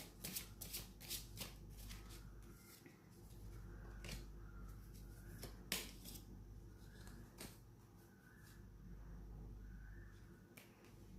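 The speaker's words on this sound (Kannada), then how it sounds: "ಸ್ವಲ್ಪ ಶಫಲ್ ಮಾಡೋಣ" A deck of tarot cards is shuffled by hand, giving a run of quick riffling flutters and sharp snapping taps, close and quiet in an otherwise still room.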